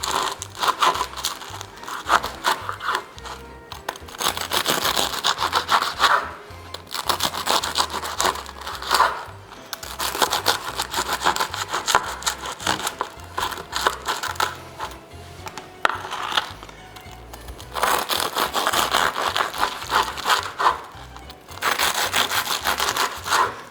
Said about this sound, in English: They cut it into strips, about an inch.